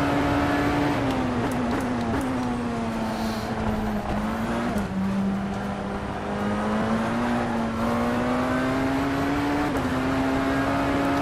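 Tatuus F3/F4 open-wheel race car in rFactor 2 screams at high revs throughout, its steady engine tone rising and dipping with throttle and gear changes, loud and continuous with no voices.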